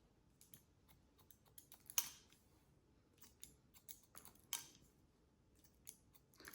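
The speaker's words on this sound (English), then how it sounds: "Barely point cut." Hair is point-cut with scissors during a pixie cut on thick hair, producing faint, sparse snips and small clicks scattered irregularly over a quiet background, with a couple of slightly sharper snips standing out.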